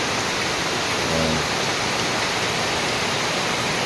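A steady, dense roar of heavy early-morning rain fills the scene without pause, with only a faint brief tonal murmur surfacing once beneath the downpour.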